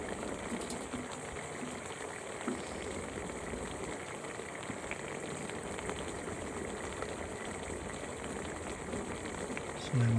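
Steady rushing, gurgling water runs continuously through a downspout drain pipe, with a faint low thump at the very end.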